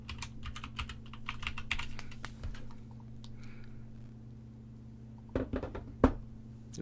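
Password typed on a computer keyboard: quick runs of light key clicks close by, a quieter pause, then a few firmer presses, over a steady low electrical hum.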